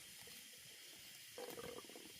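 Air bubbling out of a scalded chicken held underwater during home butchering, a faint watery gurgle that swells into a short burst of bubbling near the end.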